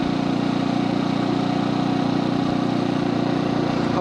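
A Brixton 250 motorcycle engine running steadily at a constant idle-like pitch, loud and close, with an even mechanical drone throughout and no talking.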